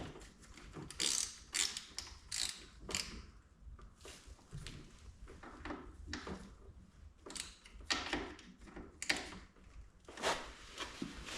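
On a 2001 Harley-Davidson Road Glide, a wrench is worked on a Legend suspension 49mm front fork cap, making faint, close clicks, ratcheting and metallic clunks in irregular bursts.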